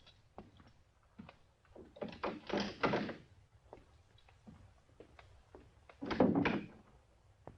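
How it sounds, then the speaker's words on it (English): A door is unlocked and opened indoors: a series of faint clicks and rattles, then louder scraping and thudding bursts near the middle and end, with no talking. "if you want to see for yourselves, I'll unlock the door."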